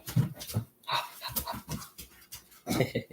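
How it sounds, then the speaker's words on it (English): A dog pants close by in quick, uneven breaths, with short whimpers breaking through the rough, breathy rhythm. "It's Marshall the dog."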